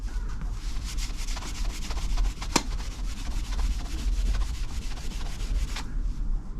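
Bench grinder converted into a buffer, polishing a metal test piece: a steady, close friction hiss of the wheel rubbing metal runs throughout with a brief sharp tick midway, no talk.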